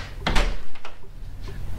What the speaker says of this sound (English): I'm gonna reopen the door again,